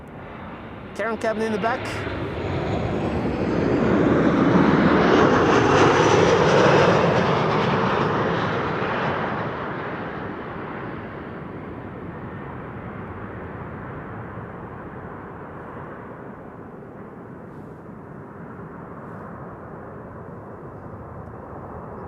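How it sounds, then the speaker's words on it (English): A KLM Boeing 737-800 arriving from Dublin at Amsterdam Schiphol on a frosty, sunny day, its engine roar swelling to a broad, loud peak and then fading to a long steady rumble, with a voice talking briefly near the start. "This is KLM flight 1136, arriving from Dublin in Ireland, 737-800."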